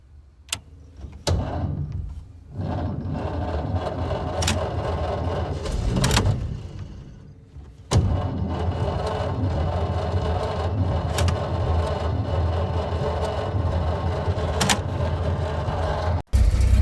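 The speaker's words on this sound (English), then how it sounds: "Okay, the car is running." A 1929 Buick car engine cranks and starts, then settles into a steady, close, continuous idle, with a couple of sharp knocks and clunks along the way.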